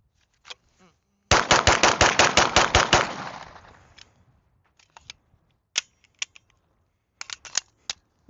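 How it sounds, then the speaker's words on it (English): A rapid burst of about a dozen loud gunshots rings out close by from a rifle fitted with an OSight XR optic and fired while dirty, followed by scattered single shots and mechanical clicks. "Let's put some rounds to it while it's all dirty, huh?"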